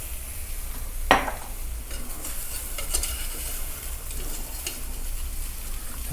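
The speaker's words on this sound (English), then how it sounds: "You want to keep whisking this together" Milk being whisked into a beer cheese sauce in a pan, a steady soft scraping and stirring hiss with a sharper clink near the start, close and continuous without talk.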